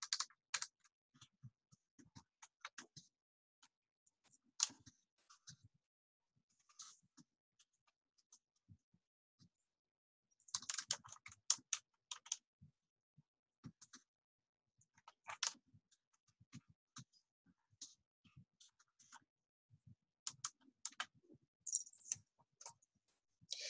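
Typing on a computer keyboard while entering recommendation text into a document, heard as quiet, close clusters of key clicks in irregular bursts with brief pauses, no talking.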